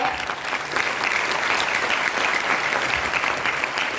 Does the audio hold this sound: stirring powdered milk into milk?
no